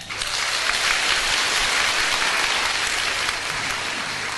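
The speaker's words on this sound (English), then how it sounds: "If yes, please clap your hand." An audience claps together at a school presentation, a dense, even wash of applause that holds steady for several seconds, moderately loud with no voices.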